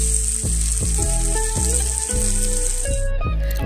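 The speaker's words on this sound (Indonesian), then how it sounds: "Nah habis itu tinggal dipanasin aja di teflon." Frozen rendang reheating in a Teflon pan, a dense constant sizzle with repeated clattering knocks of a utensil against the pan, loud and close with no talk.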